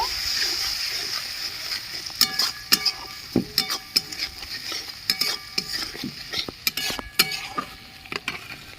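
Tomato paste, salt and a little water stirred in a sizzling pan, with repeated sharp scraping and clacking strokes of a utensil over a steady fry, close and fairly loud.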